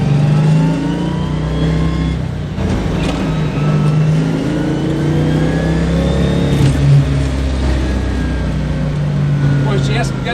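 A 1967 Camaro SS/RS 396 with a 4-speed manual roars loudly and steadily throughout, its engine revving and pulling hard as it accelerates, with people talking over the noise.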